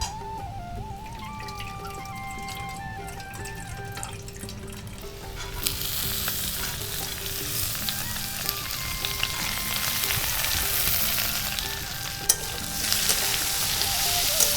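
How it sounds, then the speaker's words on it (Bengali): Papaya and soaked chana dal are stirred in a hot frying pan, with a continuous close sizzle that grows louder partway through and is broken by occasional scraping and clinking. No one speaks. "এবার ছোলার ডালের সাথে এটাকে একটু নাড়াচাড়া করে নেবো"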